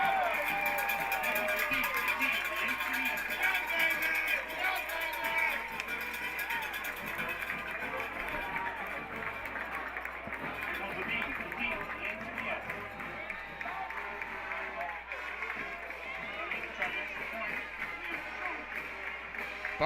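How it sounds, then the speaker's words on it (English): Bartram Trail home crowd at a high school football regional semifinal roars after a touchdown, a broad sustained cheer with scattered claps heard from a distance beneath a commentator talking throughout. "Bartram crowd"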